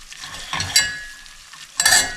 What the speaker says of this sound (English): then we're gonna whisk this together to make a roux